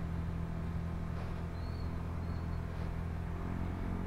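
A Yamaha Nmax 155 V2 scooter fitted with an aftermarket exhaust idles steadily, giving a continuous low, even engine drone with a faint whine on top and no speech.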